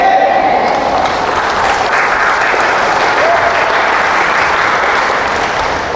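A church congregation in Baclaran claps together in sustained, dense applause that holds at a steady level from start to finish, with no voices standing out above it.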